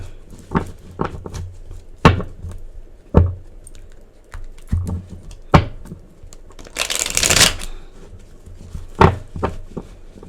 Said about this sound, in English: I had shuffled already, but we're going to shuffle a little bit more.